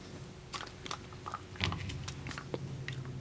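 A dachshund crunches a crispy salmon-flavored Pet Botanics dog treat, giving close, sharp bites and brittle cracks in an irregular rhythm over a quiet indoor background.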